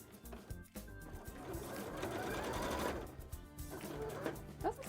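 A sewing machine top stitches fabric while tail frills are made, giving a steady close mechanical whir with a rapid needle rhythm. The whir stops and restarts briefly near the start.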